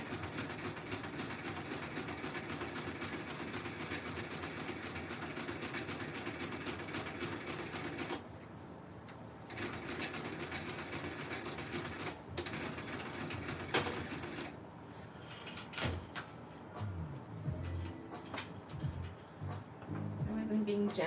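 A sewing machine stitches a tote bag with a steady, fast mechanical whirr for about eight seconds, then runs in shorter bursts with pauses and handling noises, while a person talks.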